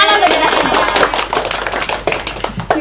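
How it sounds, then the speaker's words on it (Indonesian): A classroom group claps together in a dense, steady burst of applause that fills the room, close and loud, with a few voices mixed in. "Tepuk tangan untuk kita semua."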